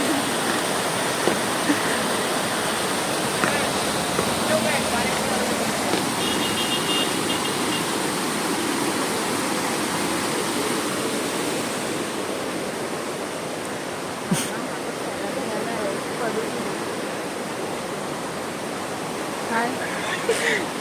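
A Lonavla waterfall rushes in a steady, loud broadband roar of flowing water that holds without a break, with a few faint knocks and clicks near the end.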